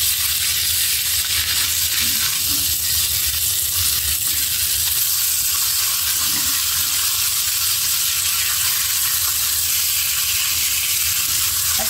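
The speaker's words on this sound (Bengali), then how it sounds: "ভালো মতো ভেজে নিচ্ছি মাছগুলি।" Kali baus fish frying in a pan, a loud, steady sizzle with a constant oil hiss and occasional spatter, no voices.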